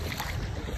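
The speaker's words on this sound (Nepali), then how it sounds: "यहाँ त हेर्नु कत्रो लहर आइरहेको छ" Big waves churning on a swollen river, a loud, close, continuous rush of water mixed with wind buffeting the microphone.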